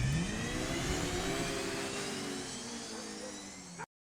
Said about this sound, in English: you'll notice that you start to hear the sound of the car whilst we're still on the visual of our main character